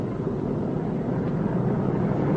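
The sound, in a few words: B-29 bomber engines running as the plane turns onto the runway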